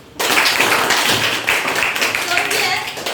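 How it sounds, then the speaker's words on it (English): Classroom students clapping together after a lesson answer on India's constitution, a brisk burst of many hands starting abruptly and continuing steadily, fairly close, with faint voices underneath. "Claps."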